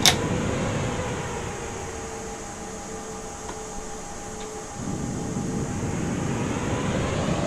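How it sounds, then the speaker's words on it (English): An airliner in a flight simulator game roars down the runway under reverse thrust, a steady loud broadband jet rush that eases briefly and then swells again. "So I'm going to try to get us back on the runway with reverse thrust."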